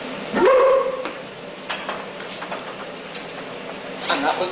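A single sharp, loud whooping bark-like burst with a brief rising whistle, followed by fainter crackles and pops.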